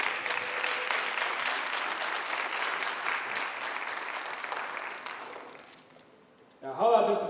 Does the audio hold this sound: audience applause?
yes